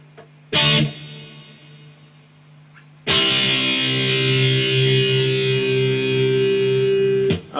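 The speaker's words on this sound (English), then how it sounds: "It's basically just 3 power chord shapes." Distorted electric guitar strumming three power-chord shapes in a pop-punk verse, a sharp stab followed by a sustained, heavily overdriven chord ringing loudly up close, with no talking.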